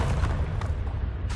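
A Bombarda spell blast in the game Hogwarts Legacy, a heavy, low booming explosion with a rumbling tail that sustains loudly throughout.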